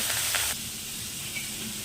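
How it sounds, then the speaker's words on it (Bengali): Pieces of katla fish sizzle in hot oil, a bright burst of frying hiss for half a second that then settles to a quieter simmer. "তেলটা গরম হয়ে গেছে, এবার আমি মাছগুলোকে ছেড়ে দিচ্ছি এক এক করে।"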